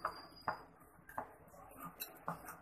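Vanilla essence is mixed into tea cake batter in a bowl, with faint, scattered clinks and scrapes of a spoon against the dish coming at irregular intervals.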